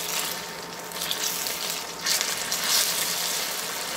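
Slices of cornmeal mush frying in a pan, a loud steady hiss of hot oil with brief surges of spattering, heard close up and alone.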